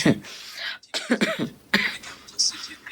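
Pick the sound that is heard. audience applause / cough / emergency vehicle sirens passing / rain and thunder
cough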